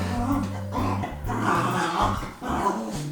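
Dogs bark and growl indoors in a rough, uneven run of yips and growls lasting a few seconds, fairly close and loud.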